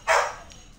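A pet dog named Rocket lets out one loud, close bark that trails off quickly, with no talking around it.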